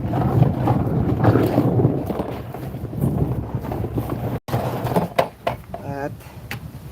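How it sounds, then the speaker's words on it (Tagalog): Strong wind roars and buffets against the microphone in a low, rushing blast, with a few short vocal sounds near the end. "ayan, lakas ng hangin"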